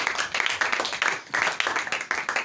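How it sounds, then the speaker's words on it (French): A church congregation claps during a service in bursts of dense, moderately loud applause, surging and easing in waves, with the speaker faintly audible beneath. "Au commis libre, acclamons."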